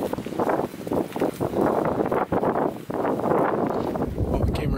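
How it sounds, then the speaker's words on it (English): Strong wind blusters on an Arizona mountainside during a Coues deer hunt, a loud, gusty rumble buffeting the microphone with no break, and a voice speaks under it. "It's super windy."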